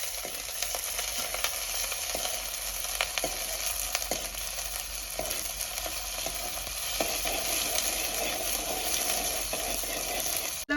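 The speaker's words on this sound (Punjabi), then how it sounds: "ਪਿਆਜ਼ਾਂ ਨੂੰ ਵੀ ਆਪਾਂ ਹਲਕਾ ਬਰਾਊਨ ਕਰ ਲਵਾਂਗੇ" Onions frying in a pan on a stove until light brown, a steady close sizzle that runs continuously with occasional faint taps of stirring and no talking.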